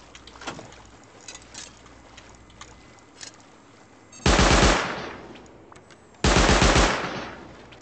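Automatic turret in the game Rust firing two loud, sustained bursts of rapid gunfire, each roughly two seconds long, after a quieter stretch of scattered small noises.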